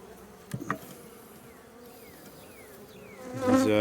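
Honeybee swarm buzzing during a hive removal, a steady insect drone with a few close bees passing by, growing louder and nearer toward the end, with no talking.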